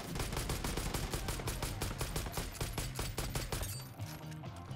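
Sustained automatic gunfire in the video game Far Cry 5 as a whole magazine is emptied, loud rapid-fire shots in a dense continuous burst that tapers off near the end.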